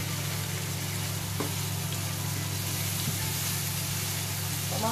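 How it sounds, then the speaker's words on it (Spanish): Onion with red and green peppers sautéing in a pan, a steady soft sizzle running evenly throughout with a low constant hum beneath and no voices. "Vamos a rehogarlo muy bien rehogadito"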